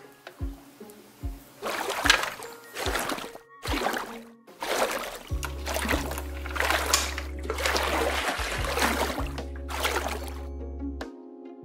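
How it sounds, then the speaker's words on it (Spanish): Water splashes and sloshes in short irregular bursts as a toy doll's hair is washed in a small tub, with quiet gaps between the splashes and a faint low hum at times. "Vamos a lavarte el pelo."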